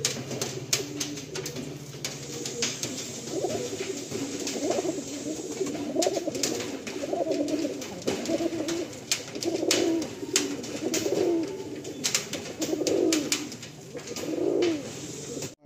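Madrasi pigeons in a loft coo in a steady series of soft, throaty rolls, several birds close by, with faint scuffling and ticks behind them.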